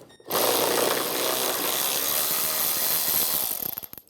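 A ratchet wrench spins off the strut mount nuts on a 2012-2016 Subaru Impreza, giving a loud, steady run of fast clicking up close for about three seconds before it slows and stops.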